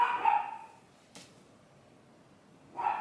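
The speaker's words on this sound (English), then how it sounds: "Would you please stop barking?" A dog indoors gives two separate barks, a sharp yelp at the start and another about two and a half seconds later, with quiet in between.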